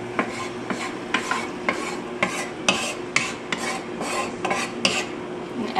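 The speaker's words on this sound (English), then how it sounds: "You hear the sizzle? That means that it is definitely hot enough." Chicken for lettuce wraps sizzles in hot oil in a pan with a constant hissing fry, while a utensil stirs and scrapes against the pan in repeated strokes.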